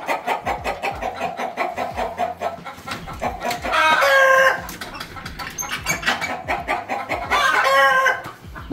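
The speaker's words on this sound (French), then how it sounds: "ici nous sommes dans une partie de reproduction des poulets" Chickens in a henhouse breeding area cluck in a busy, rhythmic chatter as two loud rooster crows ring out close by, one near the middle and one toward the end.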